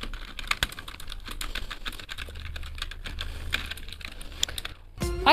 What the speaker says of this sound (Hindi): ये है मेरा मैकेनिकल कीबोर्ड, मैकेनिकल नहीं मेम्ब्रेन कीबोर्ड है, लेकिन फिर मैकेनिकल जैसे आवाज़ करते हैं, तुम लोग सुनो